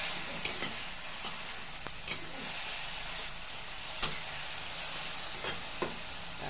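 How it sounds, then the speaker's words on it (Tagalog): Mixed vegetables sizzle steadily in a hot pan with soy sauce and leftover roast chicken, the hiss broken by a few sharp scrapes and stirring knocks. "tapos lagay na niya yung sari-sari na gulay. Mix."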